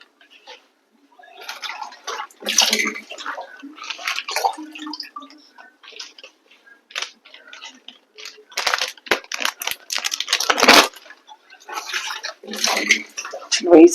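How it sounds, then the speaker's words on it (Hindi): A pot gets rinsed with a little water in a home kitchen, with irregular splashes, swishes and clinks scattered across the clip, near and moderately loud. "इसमें थोड़ा सा पानी डाल के इसको वॉश करूंगी मैं।"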